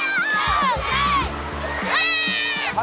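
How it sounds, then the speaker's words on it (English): Children cheering and shouting in a buzzing arena crowd at a Pittsburgh Penguins kids open practice at PPG Paints Arena, with high excited voices rising loud near the start and again toward the end over steady crowd noise. "The crowd is buzzing today"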